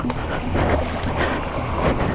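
Booted feet wade and slosh through deep water on a slippery bottom, a steady churning splash with broadband rush and wind noise close to the microphone.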